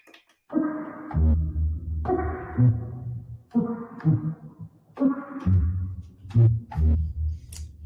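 An underwater recording of longhorn sculpin fish gives four repeated low, buzzing grunts in a steady rhythm, each lasting about a second, close and fairly loud against a quiet background.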